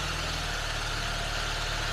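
A car engine idles steadily with a low, even rumble and a faint rhythmic pulse throughout, with no other sounds.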